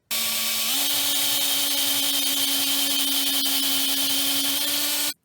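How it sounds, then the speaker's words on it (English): A power drill bores out the hole in a metal steampunk finger ring, a loud, steady whirring drone held for about five seconds with a slight pitch rise early on, close and alone. "Now I'm going to use this style of drill bit to make this hole wider and wider."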